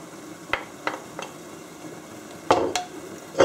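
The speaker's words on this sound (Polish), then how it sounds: "najpierw będę przesmażała boczek, on nam się wytopi" Smoked bacon frying in a little oil in a pan, a soft steady sizzle with a few sharp clinks and scrapes of a utensil against the pan, the loudest near the end.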